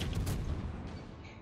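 Ship guns firing at a Fletcher destroyer in a naval video game, a single heavy boom that rolls off into a fading rumble.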